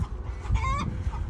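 An Americana rooster and hens on a small farm give a short burst of clucking, with one brief rising call standing out over low farmyard rumble, close by.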